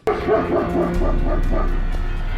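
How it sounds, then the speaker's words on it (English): Dogs bark and yip in a quick, close, agitated burst, followed by a steady low hum. "it's making the dogs bark like crazy too"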